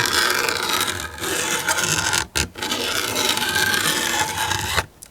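Utility knife blade's notched back dragged across plastic to score a line, a steady close scraping rasp that runs almost without pause, broken by two brief gaps.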